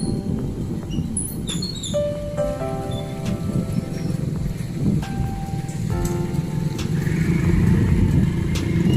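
Street traffic in Dumaguete City on a rainy morning, with motorcycles and cars passing under steady rain noise, engine drone continuous and a few high whines and beeps cutting through.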